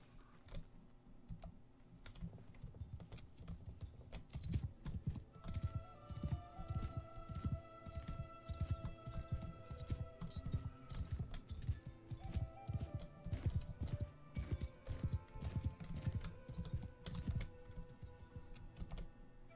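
Horse hooves clip-clop in a quick, steady rhythm for a long stretch in the video game Bannerlord, with faint background tones and a soft whinny; no one speaks.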